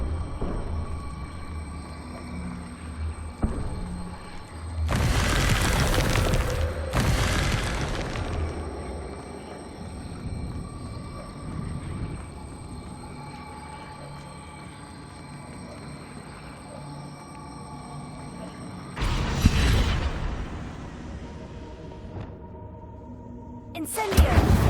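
Confringo blasting-spell explosions in the Hogwarts Legacy video game: two loud, close bursts in quick succession, then a quieter stretch with faint ambience, and another sharp blast near the end.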